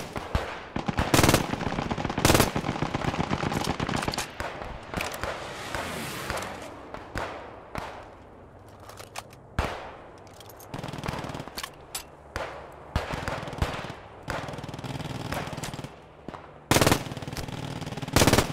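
Rapid bursts of German machine gun fire crack out in a Post Scriptum firefight, loud and close, with sharp gunshot-like volleys separated by short pauses.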